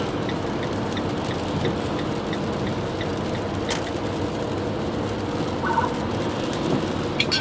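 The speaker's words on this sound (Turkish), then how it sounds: "Yani hep bir yağmur yağıyordu." Steady rain pours down throughout, a dense continuous hiss with a faint rumble of distant thunder underneath, heard alone with no voices.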